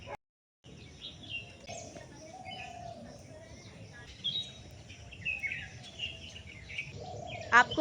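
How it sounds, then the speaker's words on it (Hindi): Birds chirp from a very large tree inside an old fort, with scattered high tweets and calls at moderate distance over a constant outdoor murmur, brief sharp chirps near the end. "आपको पक्षियों की आवाज़ सुनाई दे रही है?"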